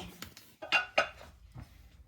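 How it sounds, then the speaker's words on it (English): A plastic Ninja Creami ice cream container and its lid are set back in place, producing a few quick clicks and a couple of sharper knocks close by, no talking. "I'm going to put the lid back on. Put the container back into the creamy."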